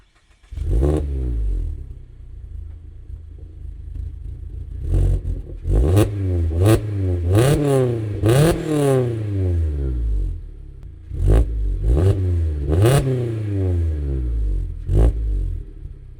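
A car engine cranks and catches, then gets blipped through a series of sharp revs that rise and fall, with pauses at idle between bursts, loud and close with no talking.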